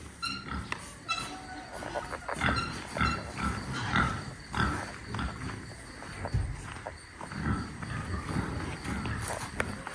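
A pig on a farm snuffles and grunts during a potato harvest, irregular close bursts mixed with rustling and shuffling steps, with faint speech in the background.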